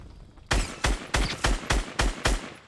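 Seven sharp, loud gunshots fire in a steady rhythm in a shooter video game, each a punchy blast with a short tail, standing alone without talk.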